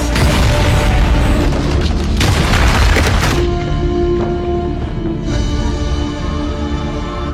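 A loud explosion in an action film, heard as a heavy booming blast with a rumbling roar that dies away into a lingering low rumble.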